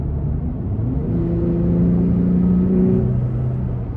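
A Toyota Tacoma's engine air intake moans as the engine revs, a loud close rumbling whoosh that rises in pitch and then eases back.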